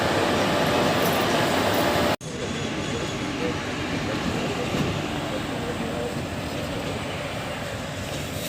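An Intercity Express train pulls out of Phaphamau station with a loud, continuous rumble and rolling wheel noise. A sharp dropout in the middle is followed by a slightly quieter steady drone of the moving train.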